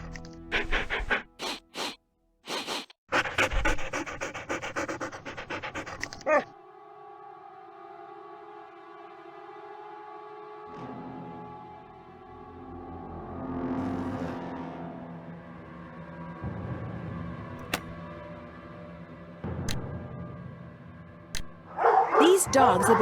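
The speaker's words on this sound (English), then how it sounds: "These dogs have been trained to act vicious on command." Ghost dogs in the Nancy Drew: Ghost Dogs of Moon Lake computer game bark and yip in sharp bursts at the start and end, with panting and a rising, siren-like howl drifting through the middle over game ambience.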